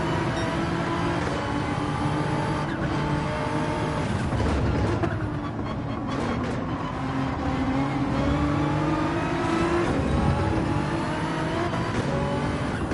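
A Nissan race car's engine roars steadily in a racing video game, holding a loud, continuous drone with shifting pitch as it accelerates, with no talking over it.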